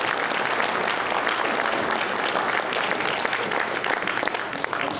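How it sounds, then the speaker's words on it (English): Audience applause for evening speakers at a community committee meeting, a full, steady burst of clapping from a crowded room that carries on unbroken, easing slightly near the end. "Let's give our speakers this evening a round of applause."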